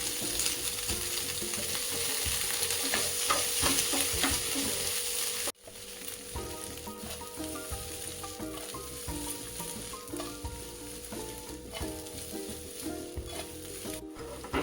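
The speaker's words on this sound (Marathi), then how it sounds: "आता आपल्याला पनीर भाजून घ्यायचं आहे." Paneer pieces shallow frying in oil in a pan, giving a loud, steady sizzle with repeated stirring scrapes and clatter throughout. After a brief dip in level, the frying continues.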